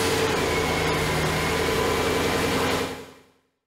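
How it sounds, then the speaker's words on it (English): A Jaguar XKR engine runs at a steady idle, a constant close drone and hum that fades out at the end, with no talk. "start the engine and let it run"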